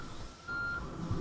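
A timer alert in the video game Factorio sounds as one short, steady electronic beep tone, faint and on its own.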